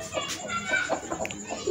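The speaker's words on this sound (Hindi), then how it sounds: "अभी मुर्गियों का खाने का टाइम है" Aseel chickens clucking softly at feeding time in a steady stream of short calls, nearby, with no talking.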